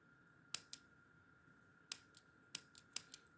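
Scissors snip beading thread while making brick-stitch beaded earrings: a few sharp, close clicks in two clusters, with a soft steady hum underneath and no voices.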